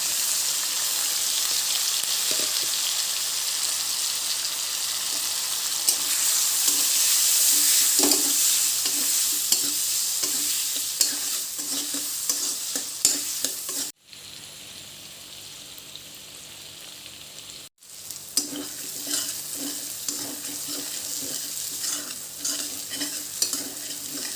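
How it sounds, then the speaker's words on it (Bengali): Pointed gourd seeds with chopped onion, chilli, salt, turmeric, dried chilli and cumin powder fry in hot oil, a continuous close sizzle broken by repeated spatula scrapes and stirring, with two brief cut-outs near the middle. "তেল গরম হয়ে গেছে, এর মধ্যে এখন আমি পটলের বীজটা দিয়ে দেব।"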